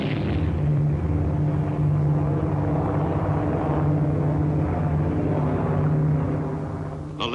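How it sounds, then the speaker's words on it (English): Steady droning roar of B-24 Liberator bomber engines from the 7th Air Force, a loud continuous hum with a strong low tone throughout, fading slightly at the end. "7th Air Force bombers began a series of strikes against that enemy stronghold"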